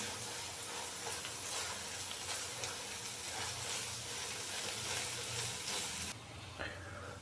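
Tomato egg bhurji with green chilli and chopped coriander sizzles and is stirred in a pan. A steady crackling fry runs under soft scraping and drops away abruptly near the end.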